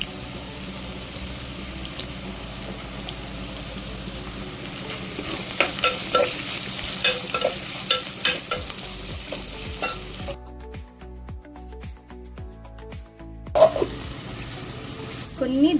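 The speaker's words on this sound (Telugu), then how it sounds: "దీన్ని డ్రై రోస్ట్ చేద్దాం ఇప్పుడు." Bitter gourd slices dry roasting in a pan, stirred with soft scraping and a light steady sizzle, a run of sharper clinks and scrapes midway, then a brief quieter stretch before stirring resumes.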